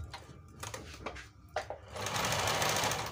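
A Janome 392 sewing machine runs a simple straight stitch, starting with a few short bursts and then settling into a steady, close, continuous whir of rapid needle strokes.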